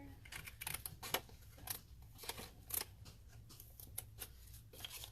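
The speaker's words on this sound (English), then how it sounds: "I'm going to cut this score line" Scissors cut paper along a score line, making a series of soft, close snips and crisp rustles at an irregular pace, fairly quiet.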